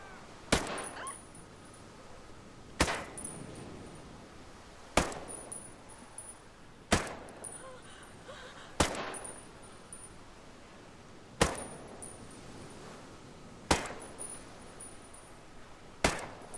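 Suppressed 416 Shorty rifle in Ghost Recon Breakpoint, fired single shot: eight sharp, muffled cracks spaced about two seconds apart, each with a short decaying tail over a quiet background.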